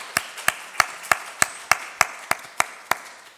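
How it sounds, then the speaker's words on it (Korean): A church congregation clapping together in unison during a Sunday worship service, about eleven sharp, evenly spaced claps at a brisk steady rhythm, each one distinct, with no voices over them. "우리 하나님 앞에 박수로 영광 올려드리겠습니다"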